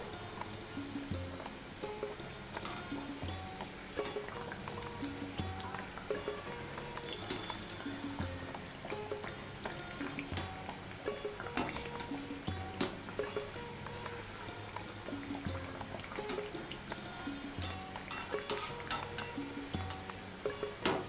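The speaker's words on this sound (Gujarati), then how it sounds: "ધીમા તાપે આપણે મૂઠિયાને તળી લઈશું" Muthiya dough balls for churma ladoo frying in oil on low heat, a steady, fairly quiet bubbling with scattered light crackles and occasional clinks, continuous throughout with no talking.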